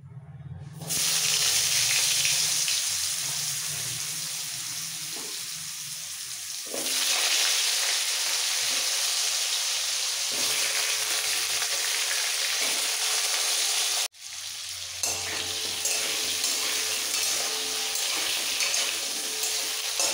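Loud, steady sizzling of potatoes frying in hot oil after a whole-cumin tempering, with surges as more is added and occasional stirring scrapes.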